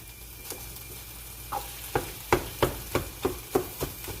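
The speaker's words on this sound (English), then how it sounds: "Go ahead and break down the sausage." A pound of sausage sizzling in a frying pan as it is broken up, with a steady fry hiss under a run of about eight sharp scraping knocks in quick, even rhythm, close and fairly loud.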